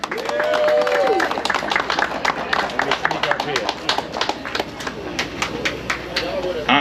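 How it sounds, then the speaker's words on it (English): An audience claps and cheers for a grandmaster at a live event, a sustained burst of many hands with individual claps standing out, while a voice talks over it and whoops rise through the crowd. "I need a round of applause for Grandmaster Dennis Brown."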